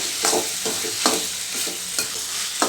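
Ridge gourd curry sizzles in a pan on high flame as its water cooks off, close and loud, with rhythmic scraping stirs of a spatula breaking through the steady frying hiss every half second or so.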